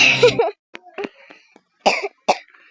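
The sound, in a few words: person coughing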